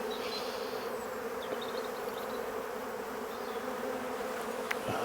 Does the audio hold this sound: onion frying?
no